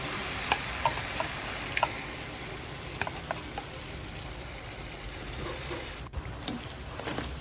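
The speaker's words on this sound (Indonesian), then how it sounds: "Lalu dibikin adonan dan digoreng." Battered tofu frying in hot oil gives a steady, dense sizzle throughout, with a few faint ticks and clinks of utensils over it and no voices.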